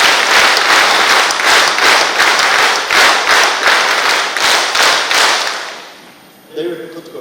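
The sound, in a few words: standing audience applause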